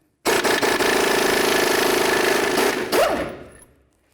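Power tool removing the lower ball joint nut on a 2006-08 Dodge RAM front suspension, one loud, continuous close-up rattling burst of about three seconds that winds down and stops.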